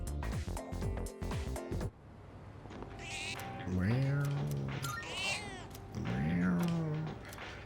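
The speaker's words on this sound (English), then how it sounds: "Cat's purring loudly. It seems happy." Cat meowing in Persona 3 Reload, with two long drawn-out meows standing out clearly over game music and a low background hum.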